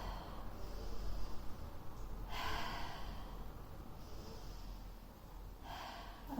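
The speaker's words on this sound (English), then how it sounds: "Couple more rounds of breath." Deep breaths during a Pilates class, with two slow, strong exhales coming through clearly and close over quiet room tone, no talk.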